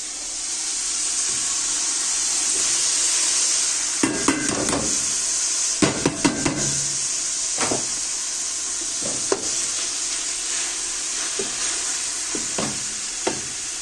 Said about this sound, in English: So it's time for me to add my spinach.